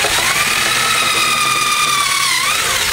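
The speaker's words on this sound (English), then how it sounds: "So now I drill a hole through the bottom of the pipe." A power drill bores a hole through the bottom of a metal pipe for a grind rail, a loud continuous whining spin that dips in pitch briefly near the end under load.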